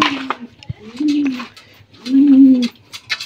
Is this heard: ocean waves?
no